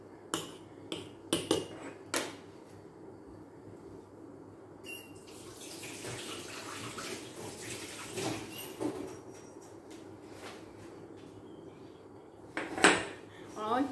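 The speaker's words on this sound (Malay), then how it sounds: "Kacau-kacau. Saya kacau dengan pisau je." A knife stirs noodles in a metal pot while cooking, giving sharp metallic clinks and scrapes in scattered bursts over a quiet background, with running water now and then.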